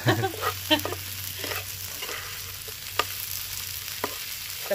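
Prawns fry in a pan over low heat for a coconut and potato prawn dish, giving a soft, steady sizzle with scattered light crackles and a few faint taps of stirring.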